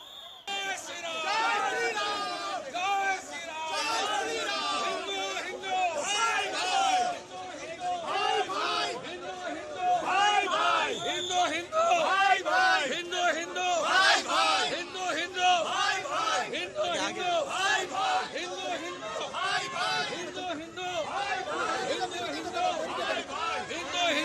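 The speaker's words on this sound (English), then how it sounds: "an attempt being made by the central agencies to disperse the crowd there at one of the polling booths" A crowd at a polling booth during a clash in West Bengal voting shouts and clamors in a dense, agitated babble, many voices overlapping and rising loudly throughout.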